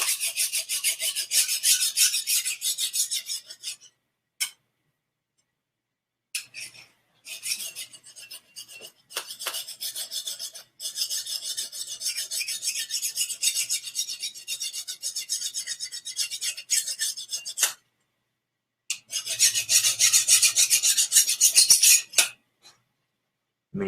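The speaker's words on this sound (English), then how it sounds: "Mini sword sharpening ASMR." A mini sword blade is drawn across a steak knife sharpener in repeated dry rasping strokes, bursts of scraping separated by short pauses, close and fairly soft with no talking.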